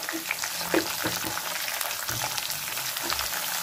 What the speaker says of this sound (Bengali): আলুগুলো ছেড়েছি, জল না এত ফাটফুট করে ফুটছে